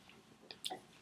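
A NatureBox snack bar is chewed close to the mic, giving a few faint, soft crunching and squishing bites over a quiet background.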